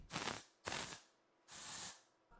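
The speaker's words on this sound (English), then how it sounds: "It's got a pretty strong spray, but it's not hard to control at all." A dry shampoo aerosol can gives three strong, close hissing bursts, each lasting roughly half a second to a second, separated by short silences.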